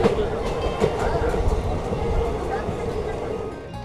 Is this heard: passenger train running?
yes